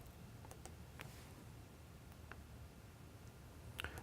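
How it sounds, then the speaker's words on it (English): Light typing on a computer keyboard, a handful of sparse, faint key clicks spaced irregularly over quiet background, with a small cluster near the end. "And I start typing M."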